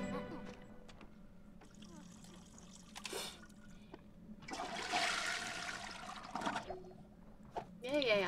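Toilet flush in The Sims 4, a gurgling rush of water swelling mid-clip and draining away, among quieter game sounds and drips, with talking heard around it.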